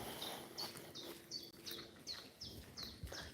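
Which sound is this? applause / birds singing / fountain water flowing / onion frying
birds singing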